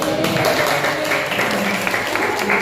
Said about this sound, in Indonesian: Kasih tepuk